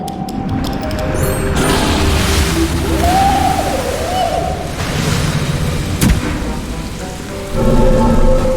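Heavy rain pours steadily in Castle of Illusion HD while a sharp thunderclap cracks and rumbles, the downpour swelling louder toward the end.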